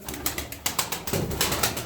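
Tumbler pigeons flap and coo in flight, with a run of sharp wingbeat bursts and rustles close by, coming in quick irregular clusters.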